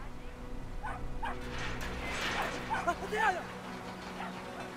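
A dog in the game Brothers: A Tale of Two Sons yips and barks a few times in quick succession beneath someone talking and a steady background hum.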